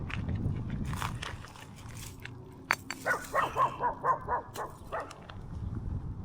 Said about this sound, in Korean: 멍멍거리네.